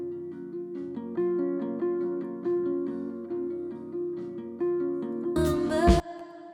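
Harp recorded through a microphone, plucked notes and chords ringing in a steady flowing pattern with a slight roomy tail, moderately loud, ending in a short louder burst of a different sound.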